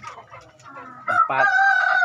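Free-range chickens let out to roam, with soft clucking that gives way to a loud, sustained rooster crow in the second half, close by and without any talk.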